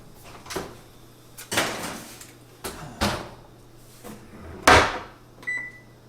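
Oven door handled and shut after a keto pecan pie goes in, a series of clunks and knocks, with one louder bang near the end followed by a short electronic beep, close and without talking.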